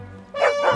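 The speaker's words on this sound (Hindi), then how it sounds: "कुत्ता क्यों भौंक रहा है?" A dog gives a short, close bark-yelp after a brief lull, a loud single vocal burst with a whiny tail.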